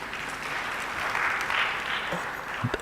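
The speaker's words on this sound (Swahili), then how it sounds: "Makofi kwake." Steady, moderately loud applause from attendees at a national science, technology and innovation conference and exhibition, a continuous wash of clapping with a couple of soft thumps near the end.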